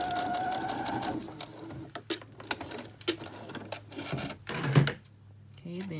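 A sewing machine double-stitches an underarm seam in short, uneven bursts of rapid needle clatter nearby, broken up by pauses and fabric handling, with a voice speaking faintly at times.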